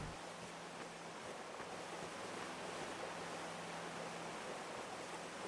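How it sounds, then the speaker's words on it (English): Steady rushing water from a waterfall in the video game Fallout 3, a dense, even wash of noise with a faint low hum running underneath, continuous throughout. "I think that's supposed to be a waterfall."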